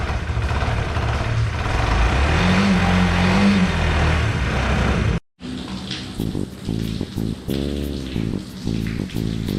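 A small Kawasaki KSR motorcycle engine runs with a steady drone, then after a brief break idles and revs in short pulses, fairly close.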